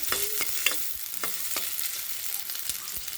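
Onion and dried red chillies fry in oil for a bitter gourd tempering, a soft continuous sizzle broken by repeated close stirring clicks and scrapes of a spoon against the pan.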